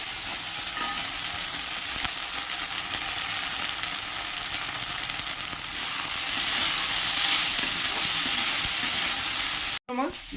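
Dried shrimp fry with a ground paste of ginger, garlic, onion and green chilli, a loud, continuous close sizzle with stirring that grows slightly louder, then breaks off abruptly near the end.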